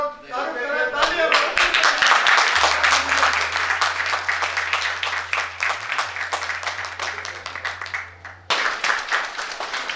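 An audience at a gathering in Junagadh breaks into loud, sustained clapping that goes on for about eight seconds, dense and close, with a low hum underneath and a brief pause near the end.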